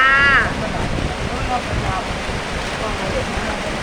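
Rain falls at home as a steady, even hiss of water that stays at the same level throughout, with a brief high tonal sound near the start.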